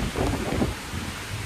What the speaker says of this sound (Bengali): এখন দেখো আবার বৃষ্টি আরম্ভ হয়ে গেছে, আর কি জোরে বৃষ্টি পড়ছে